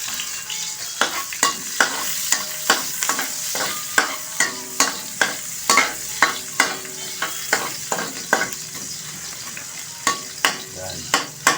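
Onions sizzling in a hot pan for pakbet, with a steady frying hiss broken by regular sharp scraping strokes of a spatula about once per second, loud and close, with no talk.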